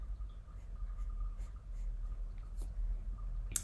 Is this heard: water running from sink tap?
no